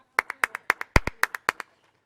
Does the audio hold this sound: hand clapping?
yes